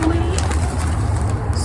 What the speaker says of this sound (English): There's those birds.